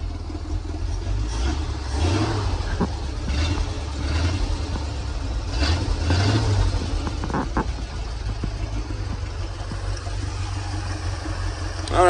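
A 1937 Ford Deluxe engine idles and is raced up, holding a steady mid-pitched run with a few rises in revs, heard up close on its own.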